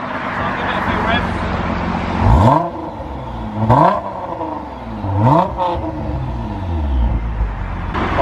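A Nissan GT-R R35 fitted with an Armytrix valved exhaust, valves closed, revs three times from idle, each blip a quick rising then falling engine note, loud and close over a steady idle, with someone talking around the revs.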